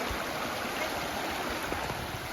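Otter Creek running low over rocks in a wilderness stream, a steady close rushing and gurgling wash that fills the whole stretch without pause, no voices.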